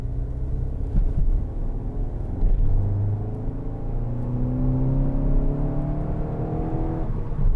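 A 2017 Skoda Octavia 245 vRS with DSG gearbox accelerates from inside the cabin, its engine note rising steadily through the revs, a loud continuous rumble with pitch climbing to a gear change near the end.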